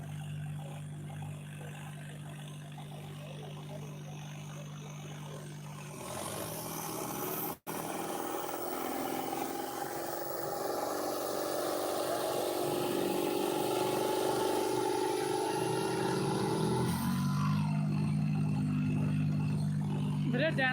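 Tractor engines droning steadily in a Dragon versus Sonalika tractor pulling contest at a village in Moga, a loud continuous mechanical roar that swells and holds, with a brief dropout midway and voices talking over it.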